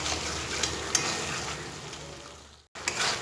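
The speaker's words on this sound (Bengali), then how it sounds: "ভালোভাবে যতক্ষণ না কাঁচা গন্ধ যাচ্ছে ততক্ষণ পর্যন্ত কষিয়ে নেব" Masala sizzles and fries in a pan while being stirred, a continuous close crackle with small scraping knocks, cut by a brief silent gap near the end before the sizzle resumes.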